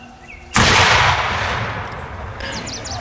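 Historical cannon fired during a Culloden-era reenactment, one loud sudden boom after a short quiet lead-in, then a long rumbling decay that echoes outdoors.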